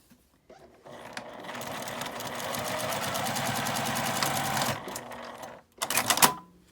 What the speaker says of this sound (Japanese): 返し口を開けてまたこの下を縫います